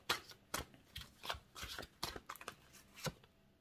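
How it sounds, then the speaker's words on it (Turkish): Tarot cards shuffled and drawn for a reading, heard as a series of crisp papery riffles and slaps, about eight or nine separate bursts spaced through the clip, close and fairly quiet with no talking. "Değerli yay burçları için 3 kart seçiyorum."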